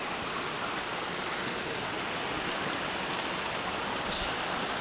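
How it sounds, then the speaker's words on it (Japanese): A mountain river on the way down from Izumigatake rushes past in a dense, constant roar of flowing water that stays even and close, with no one talking. "いいですね、川の流れ。"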